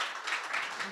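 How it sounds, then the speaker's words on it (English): Brief, soft audience clapping for speakers at a training-week session, a faint even patter of many hands without distinct individual claps. "Let us give a round of applause to our speakers"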